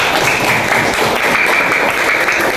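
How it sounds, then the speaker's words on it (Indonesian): A classroom of students claps together, a brief dense burst of applause that stays loud and steady throughout with no talk. "Tepuk tangan buat kalian semua."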